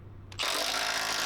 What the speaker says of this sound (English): Don't forget to retighten your crossmember bolt.